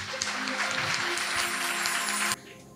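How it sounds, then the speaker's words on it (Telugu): A church congregation claps loudly together at a live prayer gathering in Kothagudem, a dense, steady wash of applause that cuts off abruptly near the end, leaving a quiet room tone. "గట్టిగా చప్పట్లు కొట్టాల."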